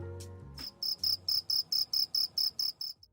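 A European field cricket (Gryllus campestris) calls in a loud, close, regular series of about ten evenly spaced chirps, heard alone after a short musical sting.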